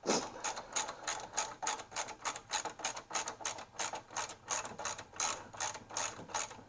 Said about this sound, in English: So important that we do tighten it down completely.